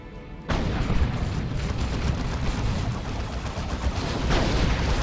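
A loud orbital strike explodes in the Dawn of War 2 real-time strategy game, a Space Marines versus Eldar match, with a sudden heavy blast followed by sustained rumbling, crackling detonations and rolling booms that continue throughout.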